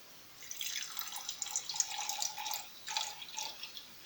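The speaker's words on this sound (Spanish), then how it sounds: "A continuación le vas a aplicar un poco de agua, que llegue hasta la mitad." Water is poured into a container, a soft irregular trickling and splashing that starts after a brief pause and continues faintly, close and without talk.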